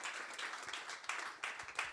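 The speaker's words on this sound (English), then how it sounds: "let's give a huge round of applause to Arthur" A crowd applauding steadily and fairly loudly, a dense patter of many hands clapping throughout with a few sharper claps standing out.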